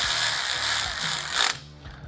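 Ratchet wrench cinching down the screws on a rack being installed on a 14th-generation Ford F-150 truck, with rapid pawl clicking that runs in several short bursts, close and loud, with no talking.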